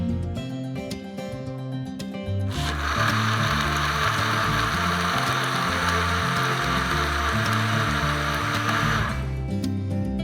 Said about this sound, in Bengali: এরপরে আমরা সবগুলো উপকরণ একসাথে ব্লেন্ড করে নিব।